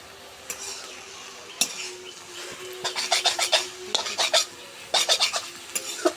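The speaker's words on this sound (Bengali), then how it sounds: "ঢাকনাটা খুললাম," A metal lid comes off a cooking pot of foraged greens with ridge gourd, followed by bursts of bright clattering and scraping of utensils against metal, coming in rapid clusters over a faint background sizzle.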